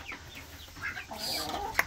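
Hungry backyard chickens around their laying spots give soft, low clucks, fairly close but not loud, with a brief sharper squawk near the end over faint ambient noise.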